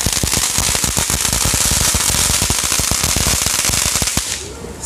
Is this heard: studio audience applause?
no